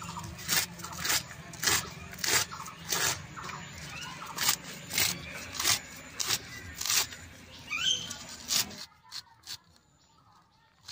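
A knife slices taro (kochu) leaves thinly, giving a series of soft, rhythmic rasping cuts close by that stop abruptly near the end.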